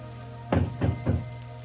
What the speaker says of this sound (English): Was that someone knocking at the door?